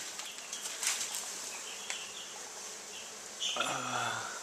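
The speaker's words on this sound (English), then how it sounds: "We picked up 3 pounds of bees and a queen." Three pounds of honey bees with a queen, bought for a top bar beehive, buzz as a dense continuous swarm close by, with brief louder passes and a low voice talking near the end.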